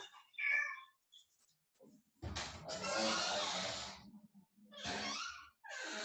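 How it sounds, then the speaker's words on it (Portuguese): A cat locked inside a home office gives a short, faint meow, followed by bursts of louder scratching and rustling near the closed door. "a gata está trancada aqui no escritório. Eu preciso abrir para ela."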